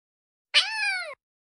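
A cat gives a single drawn-out meow of about half a second, clear and close, starting sharply and tailing off, with silence before and after.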